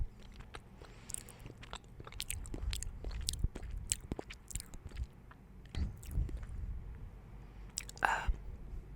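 Close-up chewing of Burger King veggie tenders: soft crunches, bites and wet mastication sounds recorded quietly and intimately, in an irregular rhythm with occasional louder crunches.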